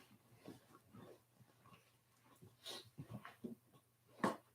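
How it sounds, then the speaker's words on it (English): Heidi, a dog kept outside, makes a string of faint, irregular snorting and whimpering sounds with breathing, ending in a sharper, louder bark-like burst near the end. "Heidi's out there barking like crazy."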